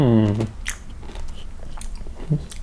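Crispy pork belly stir-fried with chilli breaks under a close bite. A short hummed voice comes first, then a few sharp crunches.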